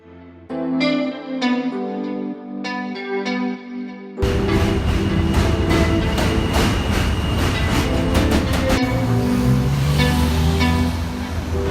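After a few seconds of plucked musical notes, a loud train crosses a bridge in New York, rumbling past with a heavy, continuous roar and rhythmic clatter.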